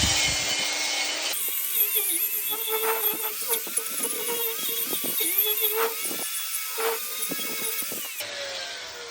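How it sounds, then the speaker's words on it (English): A wire wheel on a grinder whines steadily as it cleans a hand-forged steel rebar fire poker, a loud continuous buzz with scraping surges as the wheel bites into the metal. "These little metal wires love to fly off this grinder when you're grinding stuff down."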